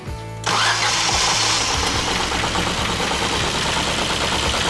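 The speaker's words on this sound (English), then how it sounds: "Right, I'll fire it up." A Ford Fiesta car engine cranks briefly and catches, then settles into a loud, steady running rumble close by.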